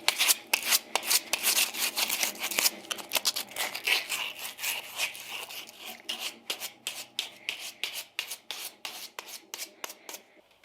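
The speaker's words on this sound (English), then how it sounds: "A little bit of care with a fine sandpaper." Fine sandpaper rubbed by hand over a small brass hook, a steady run of quick, close scratchy strokes that grow more spaced and rhythmic toward the end, with no talking.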